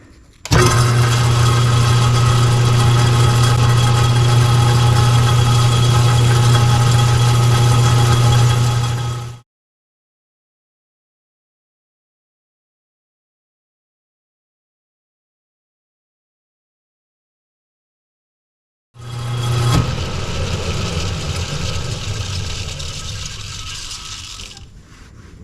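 A grade 5 titanium ring is sanded with 600 grit paper on a powered machine. It gives a loud, steady motorized whir with a humming tone, stops for about ten seconds of silence, then starts again more softly.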